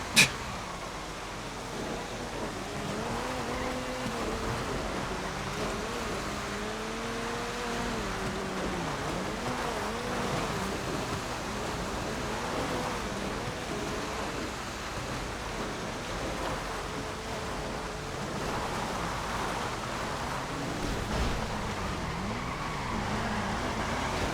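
A car in GTA FiveM races with a steady engine drone that rises and falls in pitch through repeated gear shifts under continuous road and wind noise, with no pause.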